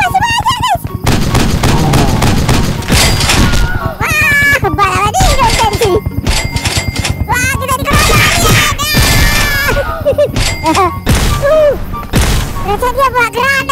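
Aliens shooting at the player in a Minecraft war game, with loud dense bursts of gunfire and explosions mixed with game music and effects, while someone talks excitedly over the action throughout.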